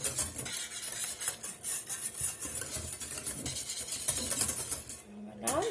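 Gelatin dissolving in very cold water for a speculoos panna cotta, stirred with a spoon: continuous close scraping and clinking against a bowl, steady and fairly loud, ending with a brief tonal sweep.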